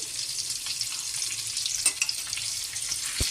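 Eggs fry in a pan seasoned with turmeric, salt, chilli powder, garam masala and black pepper: a close, continuous hiss of sizzling oil, with light stirring clicks and a sharp knock near the end.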